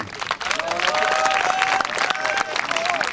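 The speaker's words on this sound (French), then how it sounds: "on peut l'applaudir" Audience applause and crowd noise at a parish cup event in Braine-l'Alleud, Belgium, a steady dense wash of clapping with voices mixed in throughout.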